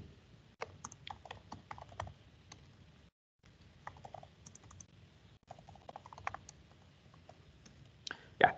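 Someone types on a computer keyboard while writing notes into a readme file for a coding lesson, with quiet, irregular bursts of close key clicks, a short pause, then more typing.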